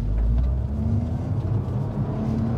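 A Toyota GR Corolla with a manual gearbox revs hard in first gear, giving a loud, sustained low engine drone with a steady pitch and no talking.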